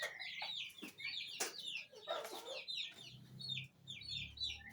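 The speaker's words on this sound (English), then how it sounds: "This is the entire population of my poultry birds." A flock of mixed-size poultry of different species clucks and chirps throughout, with many overlapping short calls at moderate distance, some louder squawks and soft low rumbles between them.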